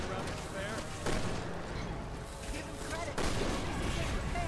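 Gunfire sounds in the video game Resident Evil 6, with bursts of shots and booming impacts over a dense game soundscape, a sharp burst near the start and another after three seconds.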